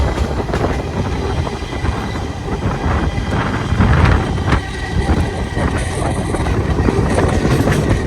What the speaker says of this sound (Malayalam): ഏതോ ഒരു ഗുഡ്സ് ട്രെയിനിനെ നമ്മൾ ഓവർടേക്ക് അടിച്ചുകൊണ്ടിരിക്കുകയാണ്